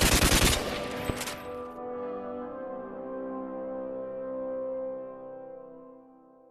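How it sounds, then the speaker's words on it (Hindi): In the video game Free Fire, an aerial gunfire salute opens with a loud, dense rapid burst of gunshots lasting about half a second, followed by a long ringing metallic tail that fades away. "चलो सब हवाई फायरिंग करो। करते रहो, फायरिंग करते रहो।"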